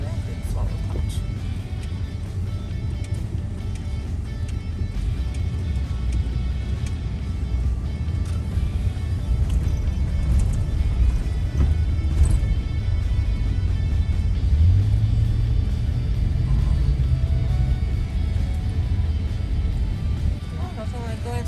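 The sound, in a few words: car driving through a stoplight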